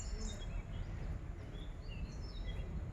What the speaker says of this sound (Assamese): সেইজনীৰ নাম দহিকটীয়া চৰাই সেই শিমলু গছজোপাৰ ওপৰত আছে